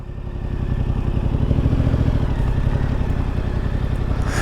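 A Yamaha XSR-700 motorbike engine idles close by with a deep, steady, throbbing rumble that swells slightly and then holds even, with no talk over it.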